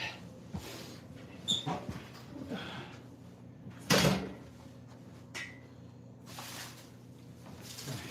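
A wood stove door is lifted off in an off-grid cabin, a quick metallic clank and scrape near 4 s among a few lighter knocks and handling clicks, close by with no talk.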